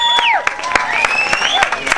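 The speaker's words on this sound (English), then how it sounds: "let's hear that crowd applause for that one." Parade crowd applauding outdoors at the Nimbin MardiGrass float awards, brisk scattered clapping with a few cheers while a voice talks over it.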